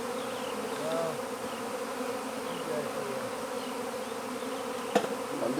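A steady, close hum of bees buzzing inside a container runs throughout, with a sharp click near the end.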